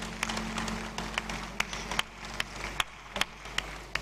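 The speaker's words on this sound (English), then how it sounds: "Let's give them a round of applause," A round of applause rises from the audience at a university convocation ceremony, scattered sharp claps over a steady low murmur, moderately distant and fairly quiet, with no voices on top.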